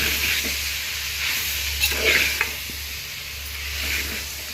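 Vegetable rice stirred in a hot pan, with soft scraping strokes and a couple of light clinks over a continuous hiss and a low background hum.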